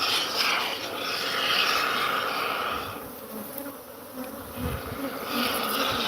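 A dense, steady buzzing of many bees, not honeybees, hums close by as a continuous swarm drone that rises and dips slightly in loudness.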